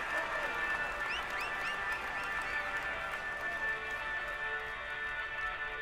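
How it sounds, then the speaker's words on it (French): Roadside spectators in the Tour de France 2020 cycling video game cheer and applaud as a steady, dense crowd roar with scattered whistles that holds at an even level throughout. "Allez, on l'applaudit encore"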